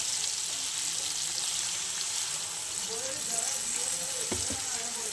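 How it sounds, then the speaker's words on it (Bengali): Paneer cubes are stirred into frying masala in a pan and a little water goes in, giving a continuous loud sizzling hiss with soft stirring noises and a faint voice murmuring in the background later on. "আমি পনিরগুলো দিয়ে দিলাম, দিয়ে একটু নাড়াচাড়া করে আমি অল্প জল দিয়ে দেবো"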